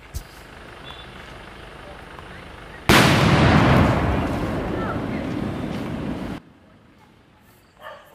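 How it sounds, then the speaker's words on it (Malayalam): A sudden loud blast of firecrackers in a plantation bursts in and roars for a few seconds before cutting off, leaving quieter ambience and a faint pop near the end. "ആൾക്കാർ ഗുണ്ട് പൊട്ടിച്ചിട്ടുണ്ട് പറഞ്ഞു"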